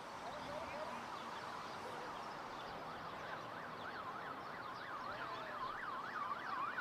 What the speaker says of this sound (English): And now there's sirens.